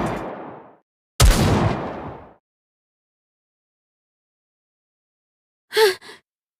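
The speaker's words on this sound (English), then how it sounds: "Those gunshots." Two short, sharp bursts of video game gunfire ring out in quick succession after a long silence, preceded earlier by breathy vocal sounds.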